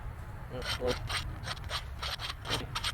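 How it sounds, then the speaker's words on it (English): Metal filing and scraping on the splines of a transmission shaft for a Cummins swap with a 7-speed manual, a steady series of rasping strokes close by, repeating roughly every third of a second. "we're trying to clean all these splines up here so we can get it to slide on"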